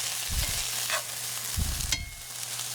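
Diced vegetables and garlic frying over high heat for fish tacos, a continuous close sizzle with two bursts of stirring scrapes and a brief sharp tick.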